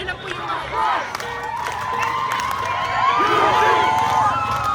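Excited crowd of well-wishers cheering and shouting to welcome bar exam takers at a traditional send-off, loud and continuous, with high whoops rising over the din and voices mixed in.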